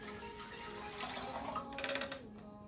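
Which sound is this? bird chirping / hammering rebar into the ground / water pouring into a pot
water pouring into a pot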